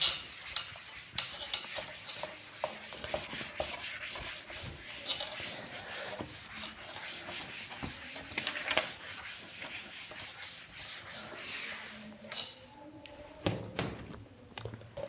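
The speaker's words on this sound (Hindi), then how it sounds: "इसको रब कर देते हैं" A duster or cloth rubs writing off a classroom board in a steady run of dry scrubbing strokes, fairly close and moderately loud, with no talk over it.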